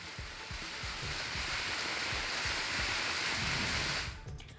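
Steady, dense unseasonal rain pours down over farmland with scattered heavier drops spattering nearby, then the downpour cuts off abruptly near the end.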